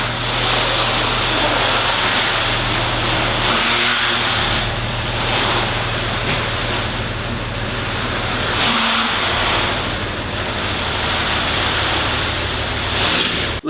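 A BMW Z4 3.0 rolling into a garage: a loud, continuous engine drone with rumbling exhaust close by, a slight rise and fall in pitch as it creeps forward, and no one talking.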